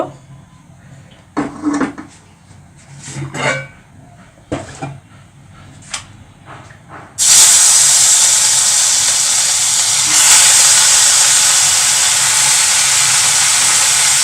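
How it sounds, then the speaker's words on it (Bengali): Fish goes into hot oil in a pan over a lowered flame. A few quiet handling clicks and knocks come first, then a sudden loud, steady sizzle takes over and keeps going. "আমি কিন্তু প্যান জাল কমিয়ে দিছি এখন আমি মাছটা দিয়ে দিব"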